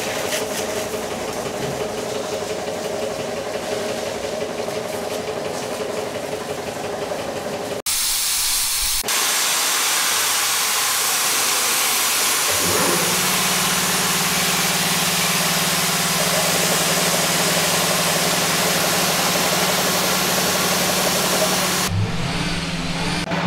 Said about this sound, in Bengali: বাইক ওয়াশ করতে লেগেও গেছে